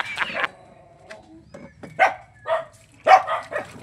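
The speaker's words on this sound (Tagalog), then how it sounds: "Paingay yung aso" Dog barking in short, sharp bursts, several separate yaps spaced over a few seconds, close and fairly clear against a quiet background.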